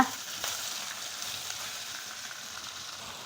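Tomatoes for brinjal kuzhambu fry in a pan with a steady, close sizzle and a faint sound of stirring, continuous and even throughout, with no talk.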